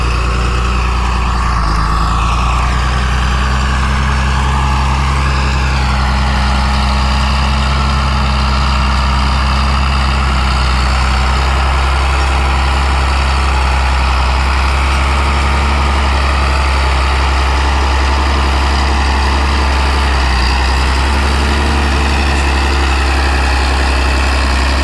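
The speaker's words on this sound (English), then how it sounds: "That 8410T is still a fantastic looking tractor." A John Deere 8410T tracked tractor idles steadily for about twenty-five seconds, a loud, continuous low diesel drone with a faint whine layered on top and no talking.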